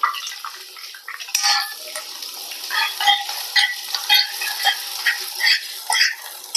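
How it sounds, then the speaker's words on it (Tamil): Onions, green chillies and tomato for a prawn thokku are stirred in a pan, with soft frying sizzle under repeated spoon scrapes and clinks against the metal, close and uneven. "எல்லாத்தையும் ஆட் பண்ணிவிட்டு கலந்து விட்டுக்கோங்க"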